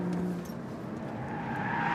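A Lotus Evora S driven hard on a circuit, its engine loud and close with tires squealing and skidding through a corner, a rising whine toward the end.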